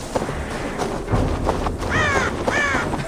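A raven in Assassin's Creed Valhalla gives two harsh caws close by, spaced about half a second apart over a busy background of game ambience.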